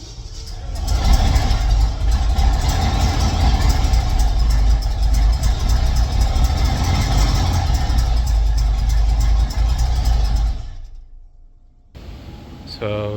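A Ford 460 big block V8 with an exhaust leak runs loud and rough, a heavy continuous rumble close by for about ten seconds before cutting out abruptly into near silence, then a brief burst of other noise.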